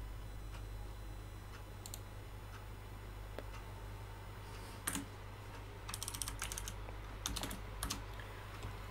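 Keystrokes on a computer keyboard tapped in short irregular bursts over a steady low hum, fairly faint, as text is typed into a code editor.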